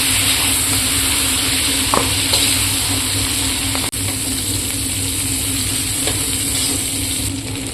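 Paneer dish ingredients fry in hot oil with a steady, loud sizzle and hiss throughout, broken by a few faint clinks of stirring and no voices.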